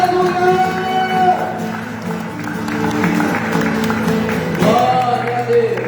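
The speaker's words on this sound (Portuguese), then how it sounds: "Vamos aplaudir a Ele." Church congregation at a worship service claps steadily as a broad wash of sound under singing voices and music, continuous and fairly loud throughout.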